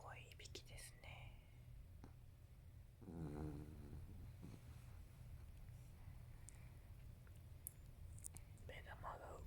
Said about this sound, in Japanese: すごいいびきですね。